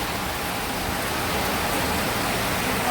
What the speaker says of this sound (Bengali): আমার বৃষ্টিটাও দেখাই হ্যাঁ, দেখুন বৃষ্টি